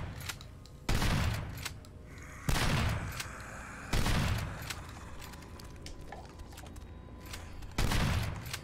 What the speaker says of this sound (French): J'ai voulu la résoudre à coup de fusil à pompe, là, l'énigme, mais c'est pas passé.